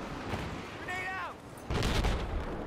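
Battlefield 4 combat: a booming grenade blast and heavy gunfire, with a brief whining tonal sweep between loud, dense bursts.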